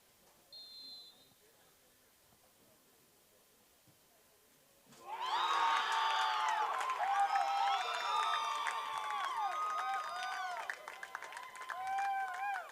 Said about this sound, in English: the visitors are cheering